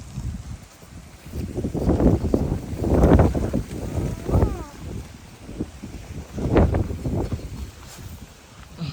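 Strong wind gusts roar across an open farm plot being readied for planting corn, buffeting the microphone in repeated rising and falling rushes.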